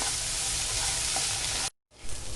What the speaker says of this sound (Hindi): इन सबको मैं साथ में भून लूँगी।